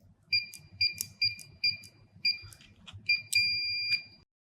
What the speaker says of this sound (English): You will hear one long beep